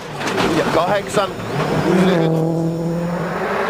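A Ford Focus rally car races through a tarmac stage at Rallye Deutschland 2007, its engine loudly revving with quick upshifts and rising pitch sweeps, then holding a steady howl as it passes, under a commentator's continuous voice.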